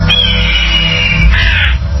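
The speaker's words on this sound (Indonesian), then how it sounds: "Gagak! Ini pertanda buruk." A crow gives one long, loud, drawn-out caw that shifts in pitch near the end, over a dense low rumble of background sound in a dubbed historical drama.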